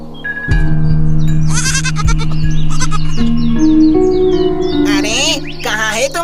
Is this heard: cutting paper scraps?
no